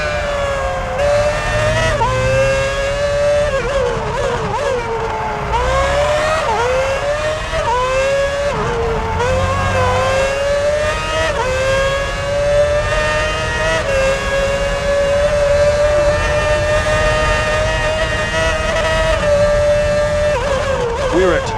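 Formula 1 race car engines from F1 2006 Championship Edition on PS3, at the Australian round, scream continuously with rising and falling gear-change whines, loud and close throughout, while a commentator talks over them.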